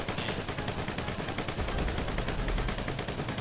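Dense, unbroken gunfire in the video game GTA, aimed at a character's head: rapid shots blend into a loud, steady roar that lasts the whole stretch, with no talking.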